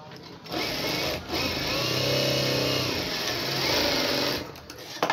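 Sewing machine stitching the lining of a straight-cut blouse, a continuous close mechanical whirring that runs almost unbroken with a brief dip near the start, loud and alone.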